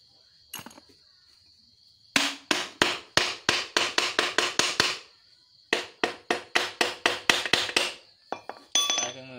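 Rapid metallic hammer blows on motorcycle four-speed gearbox parts, two sharp, loud bursts of about a dozen ringing strikes each, with a few scattered knocks before and after.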